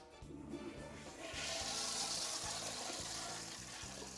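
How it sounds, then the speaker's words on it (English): A toilet flushes during a restroom cleaning, a rising gush of water that swells after a second, then drains and refills, heard close with faint background voices underneath. "flushing the toilet to remove any loose debris"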